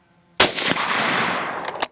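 A Howa 1500 hunting rifle fired with a suppressor gives a single sharp, loud report close by, followed by a rolling decay lasting over a second, then a couple of faint clicks.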